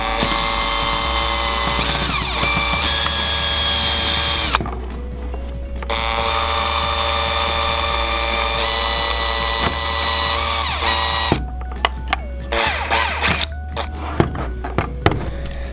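Power tool driving a bolt into the front A-arm of an RC Rustler build, a steady close whine running continuously with brief pauses and sharper ratcheting bursts toward the end.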